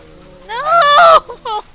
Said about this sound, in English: My dogs are going to go nuts at the sound of these things barking.